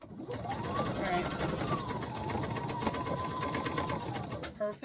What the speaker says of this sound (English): You need to be able to measure cut and sew a straight stitch.